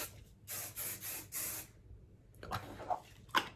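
Hairspray goes onto freshly curled hair in several short, close hissing spritzes in a quick rhythm, then fainter rustling and a couple of softer bursts, with no talk.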